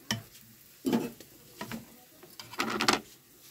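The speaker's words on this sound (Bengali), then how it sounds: "এটা একটু ভালো করে ভাজা হোক" Pav bhaji vegetables being fried and stirred in a pan at home, with a few separate bursts of scraping and sizzling separated by quieter pauses, fairly close and with no voices.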